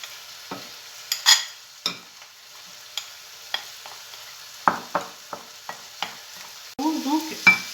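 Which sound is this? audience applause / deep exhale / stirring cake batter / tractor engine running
stirring cake batter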